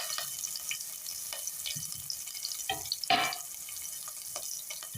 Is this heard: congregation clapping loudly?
no